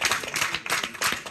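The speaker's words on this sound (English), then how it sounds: "Applause from their supporters who dismissed this trial as politically motivated." Supporters applaud in a courtroom after a verdict in a politically charged trial, brisk clapping from a modest group nearby, rising and falling in three quick bursts.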